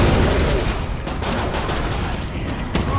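Dense, continuous pistol gunfire and combat noise from the video game Killing Floor 2, loud and steady throughout, with brief sharper shots standing out near the end.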